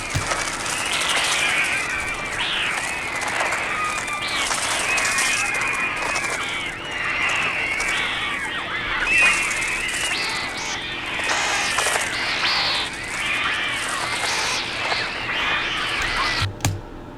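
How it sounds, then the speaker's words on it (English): A flock of crows in the 1963 Hitchcock film The Birds caws and shrieks in a dense, harsh, overlapping chorus that stays loud and continuous throughout. "These crows are insane."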